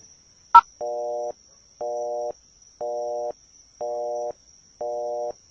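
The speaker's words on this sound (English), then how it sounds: "I'll just hit the redial button on my phone." Five evenly spaced electronic redial tones beep from a phone after a sharp click, each a steady half-second burst separated by short gaps, clean and close with a faint high whine underneath and no voices.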